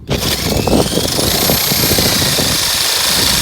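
Core drill motor boring a hole through a wall for an air-conditioner line, a loud steady grinding whir running throughout with rough, gritty texture and a faint high whine above.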